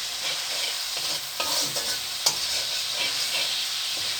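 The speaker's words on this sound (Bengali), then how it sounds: "দিয়ে এগুলোকে আরেকটু কষিয়ে নেব।" Turmeric, chili and cumin powder sauté in hot oil for a cauliflower, potato and tilapia fish curry, a steady close sizzle broken by a few scraping stirs of the spoon against the pan.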